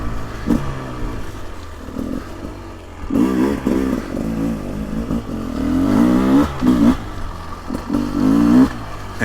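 A 2024 Beta 300 Race Edition two-stroke dirt bike climbing a slippery uphill, its engine revving in close bursts that rise and fall with throttle, with some clatter between surges.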